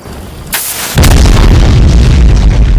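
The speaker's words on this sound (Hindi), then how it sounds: "तुमने मोमबत्तियों के अंदर गन पाउडर सही तरीके से भरा था कि नहीं?" A gunpowder-filled candle explodes in a cartoon, a sharp crack followed by a loud sustained booming roar that fills the rest of the moment.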